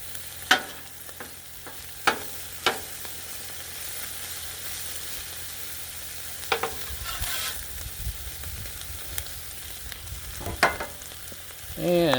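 Steak sizzles steadily on a hot griddle while a metal spatula scrapes and taps across the surface in sharp, scattered strikes, close and clear over the constant frying hiss.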